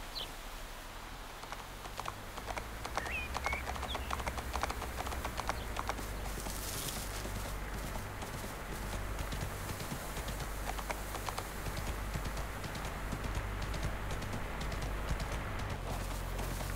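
Horse hooves clip-clop steadily across ground in a video game, a continuous rhythmic patter running throughout under ambient outdoor game sound, moderately close, with no speech.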